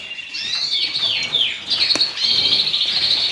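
Lesser redpolls chirping in an indoor bird room, a string of close, high, sweeping tweets and calls with brief pauses, one sharp click partway through.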